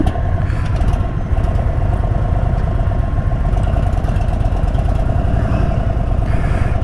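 An Indian Super Chief motorcycle engine rumbles steadily and loudly at close range with an even, continuous throb as the bike gets ready to ride off.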